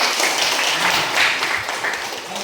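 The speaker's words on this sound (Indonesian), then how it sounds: "Tepuk tangan dulu." Classroom applause during a Christian religious education lesson: a brief, steady patter of clapping from a small group of students, fairly close, lasting a couple of seconds.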